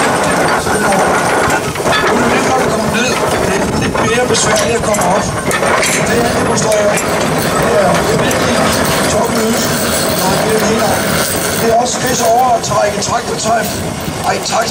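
A 1911 Minneapolis steam traction engine runs at a vintage steam tractor rally, a loud continuous mechanical clatter and chug that persists throughout while someone talks over it.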